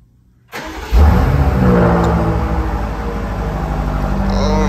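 A 2023 BMW M8 Competition engine cranks and fires up abruptly, then settles into a loud, steady rumble close by, with a brief rev as it starts.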